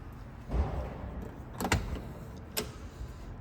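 Doors on a 1983 VW Quantum GL5 wagon are shut, giving two solid thuds a second apart, close by and crisp, with a fainter rustle and movement before them and no talking.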